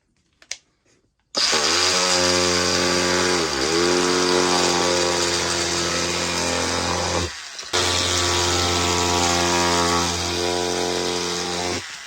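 A brand-new, decades-old vintage cordless electric knife drones with a loud, steady motorised buzz while cutting thin rubber laid against card. It stops with a brief dip partway through, then carries on running continuously.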